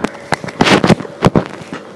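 Shaking-bomb firecrackers go off in a burst of sharp, loud cracking bangs, several close together, with a crackling scatter between them.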